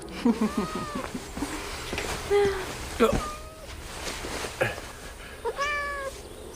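Cat meowing repeatedly in short, scattered calls, some rising and falling, close by, mixed with brief voices and small noises in a quiet room.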